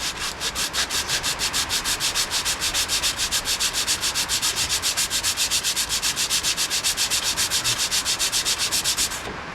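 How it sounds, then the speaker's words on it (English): Emery cloth rubs over Morris Minor brake parts in fast, steady back-and-forth strokes, a close, even rasping rhythm that continues alone for the whole stretch. "give these another bit of a sand with some memory cloth."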